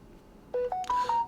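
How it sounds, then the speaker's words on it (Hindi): A phone notification tone plays as a short sequence of three or four clear electronic beeps, each a little higher in pitch, loud and close with no voices. "ये मेरे फोन पे आया नोटिफिकेशन"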